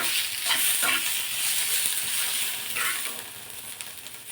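Chopped pieces of a large tomato drop into a hot pan with cumin for butter chicken gravy, producing a steady, loud sizzle and hiss with faint stirring, no voices.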